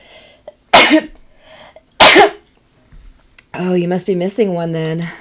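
A single sharp sneeze bursts out, followed about a second later by a second similar sneeze-like burst, close and loud, with a person talking briefly afterward.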